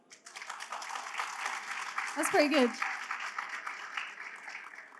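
A startup gameshow audience gives a sustained round of applause, steady and moderately loud, while someone speaks briefly over it midway.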